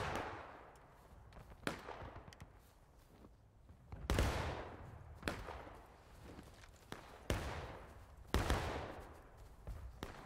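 Sharp gunshots ring out in an online battle video game, with several separate loud cracks and booms spaced a few seconds apart, each decaying into echoing rumble, over faint background clatter and distant firing.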